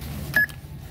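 A single short electronic keypad beep from a Toshiba self-checkout at a Safeway store as a phone number is entered, clear and close over low store background noise.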